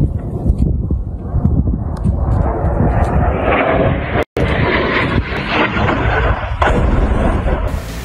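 A missile explosion from an airstrike in Gaza: a loud, continuous rumbling blast with dense low-end roar and the crackle of building debris thrown into the air, sustained throughout, briefly cut silent midway.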